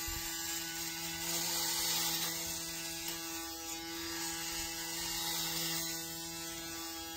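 A Braun Series 9 electric shaver motor runs steadily and close by, a continuous buzzing whine with an even, unbroken tone throughout and no speech.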